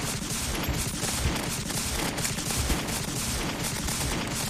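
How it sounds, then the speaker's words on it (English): Rapid, continuous gunfire from a weapon in Terraria during a goblin army invasion, a dense, loud stream of game shots with no pauses. "You probably can't even hear me because of this gun."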